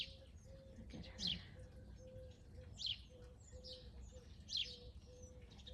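Small birds near a she shed chirp in three brief, faint high bursts spaced a second or so apart, over a steady low tone and background hum.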